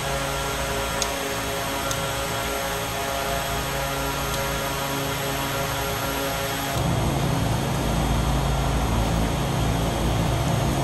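A Beechcraft engine in a flight simulator game, a steady loud drone in flight that stays constant, then thickens and grows slightly louder partway through.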